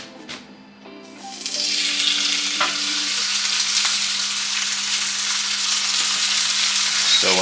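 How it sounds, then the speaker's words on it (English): A steak drops into a hot pan and sets off a loud, steady, hissing sear that carries on without a break after a brief clatter and scrape at the start. "So I'm gonna sear it for about 5 minutes on each side."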